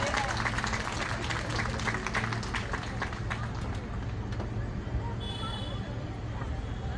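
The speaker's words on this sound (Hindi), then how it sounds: "जोर से ताली बजाइए।" At a church gathering, an audience claps loudly at first and the applause thins out over several seconds, with crowd murmur and voices underneath.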